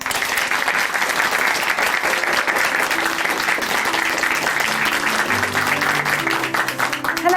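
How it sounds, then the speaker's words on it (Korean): Church congregation applauds at the close of a testimony program, dense steady clapping filling the room, with a few sustained musical tones entering underneath toward the end. "응원의 박수 보내드릴게요"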